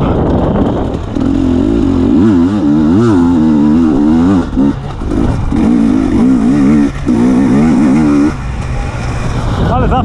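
A KTM EXC 250 TPI two-stroke enduro motorcycle engine revs loudly and up close, its pitch rising and falling in repeated throttle blips with brief dips, and a rider's voice occasionally audible over the engine noise.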